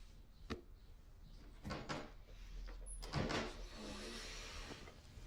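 A front door of a family home opening and closing, with a couple of faint knocks and a louder thump near the middle, set against quiet room tone and no speech.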